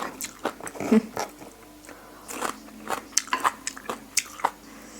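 Someone eats khanom jeen rice noodles in fish curry with chicken feet by hand, with close, wet chewing and soft squishy bites coming in bursts against a quiet room.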